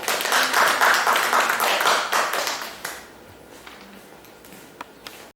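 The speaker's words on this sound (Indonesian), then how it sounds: "berikan tepuk tangan pada kelompok 2" A classroom of students applauds group 2, a burst of dense clapping that fades out after a few seconds into quiet room noise with a few stray claps and taps.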